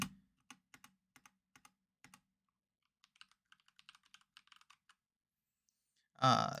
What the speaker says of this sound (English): Can you hear my keyboard really annoyingly?